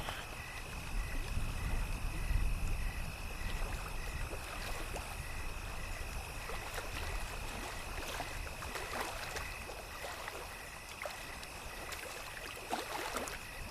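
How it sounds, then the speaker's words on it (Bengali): A cartoon boat in midstream on a river, water flowing and lapping steadily with faint splashes and a high steady tone over the top, continuous and fairly quiet. "নৌকা এখন মাঝ নদীতে।"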